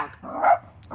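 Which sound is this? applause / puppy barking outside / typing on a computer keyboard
puppy barking outside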